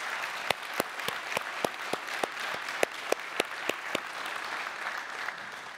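A church congregation claps in thanks, a steady run of applause with sharp individual claps standing out above the crowd's patter, sustained at moderate level for several seconds.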